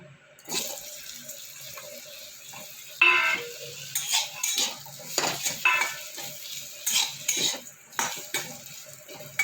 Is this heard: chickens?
no